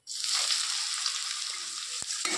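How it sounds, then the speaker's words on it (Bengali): Chopped onions frying in oil with whole cinnamon, cardamom and cumin give a steady, close hissing sizzle that holds evenly throughout, with a few soft clicks of stirring near the end. "পেঁয়াজটা একটু লাল লাল করে ভেজে নেবো।"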